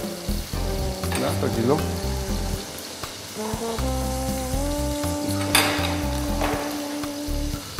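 Beef osso buco browning in a frying pan, a steady close sizzle with bursts of spattering, heard under and between a few short spoken remarks.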